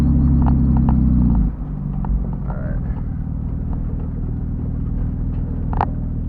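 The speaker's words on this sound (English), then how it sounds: "do some burnouts real quick. Maybe I can do some figure eights." A car doing burnouts and figure eights gives a loud, deep engine rumble that drops in pitch and level after about a second and a half, then settles into a sustained growl.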